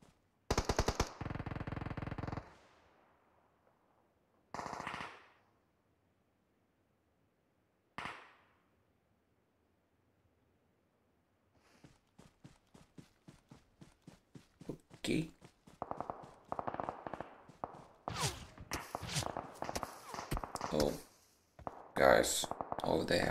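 Gunfire from the video game PUBG in a hot-drop fight: rapid bursts of shots from all around, a few loud isolated bangs early on, then dense clattering volleys building through the second half.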